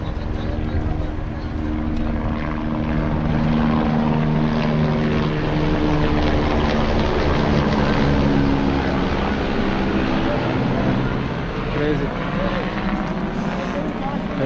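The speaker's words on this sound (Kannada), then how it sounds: "ನೋಡಿ ಇನ್ನೊಂದು ಹೆಲಿಕಾಪ್ಟರ್." A helicopter flies over the Amarnath pilgrimage route in the mountains, giving a loud, steady rotor-and-engine drone that holds unbroken from start to finish.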